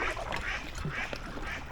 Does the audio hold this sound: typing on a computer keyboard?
no